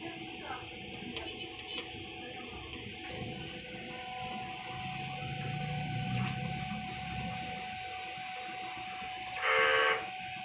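A wide-format printer runs a print head cleaning cycle: a low mechanical whir and hum rise in the middle, with faint clicks early and a brief louder buzzing burst near the end.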